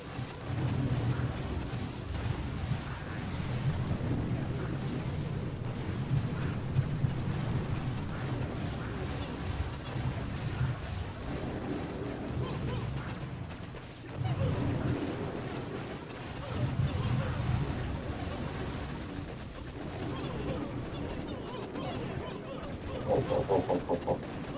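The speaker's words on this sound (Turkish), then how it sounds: "Gambata'ya yönelik top atışı gerçekleştirdi Hammerman" Hammerman's cannon shots and explosions thunder through a Boom Beach battle, heavy booms and rumbling blasts repeating over a sustained low roar of combat, loud and close, with a voice talking alongside.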